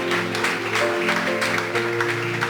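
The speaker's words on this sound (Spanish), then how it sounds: "Denle un aplauso a Dios si usted lo cree." A church congregation at a Sunday school service applauds steadily, with music playing underneath the clapping.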